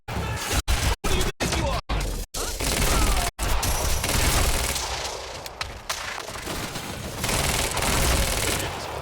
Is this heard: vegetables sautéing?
no